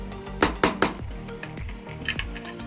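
A metal lid clatters onto a pot of simmering beef curry in a home kitchen, with three sharp clanks followed by lighter clinks and scrapes as it settles.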